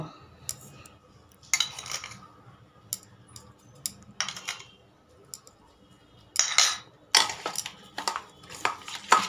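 Pieces of rohu fish worked by hand with salt and turmeric before frying: scattered clinks, taps and wet rubbing sounds in irregular bursts, fairly close and otherwise quiet.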